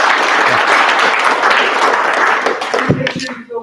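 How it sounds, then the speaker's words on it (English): Applause for graduates at a study club event, a loud burst of clapping from a room full of people that thins out toward the end. "another round of applause for our graduates"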